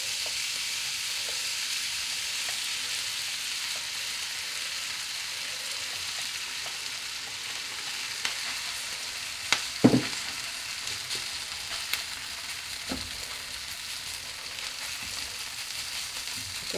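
Chorizo frying in a greasy pan gives a steady, close sizzle throughout, with a few sharp clacks of stirring near the middle and no talking.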